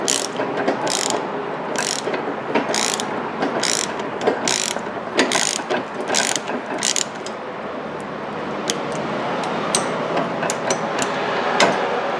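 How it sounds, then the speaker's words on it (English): A ratchet wrench turns the nut on a rear sway bar link of a 2006-2011 Toyota Camry, with rapid clicking bursts in repeated strokes up close, then slower scattered clicks and metallic taps. "we turn the wrench and just hold the Allen key in place so we don't strip it out"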